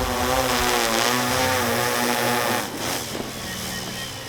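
An FPV drone skims low over a glacier at a freeride venue, its propellers producing a loud, steady high-pitched whine that wavers in pitch and dips slightly partway through, with no voices.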